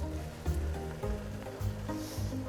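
Ground turkey frying in a pan for taco lasagna while being stirred constantly, a steady close sizzle with faint scraping from the stirring, no voices.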